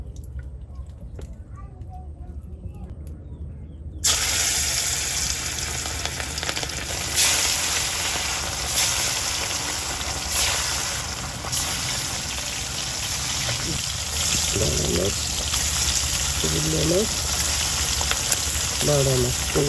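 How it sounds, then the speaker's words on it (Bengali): Fish frying in hot oil in a wok, a loud, close, continuous hiss that starts abruptly after a few quiet seconds and keeps crackling steadily, with faint chirping in the background. "মাছগুলো ভাজার জন্য কড়াইতে তেল দিয়ে দিচ্ছি।"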